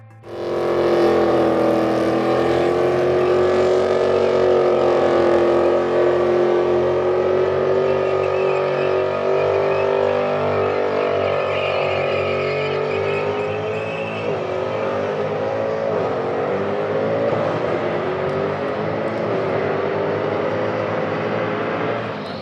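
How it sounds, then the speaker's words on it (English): A Mercedes CLK Black does a burnout with its tyres spinning. The engine holds a loud, steady, high-revving roar for about twenty seconds, easing slightly toward the end, with no voices. "Then he's done a burnout."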